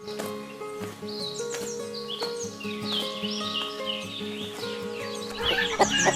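A chicken being chased clucks fairly faintly and steadily, its clucks blending into a busy backdrop of other tonal sounds, with a louder flurry near the end.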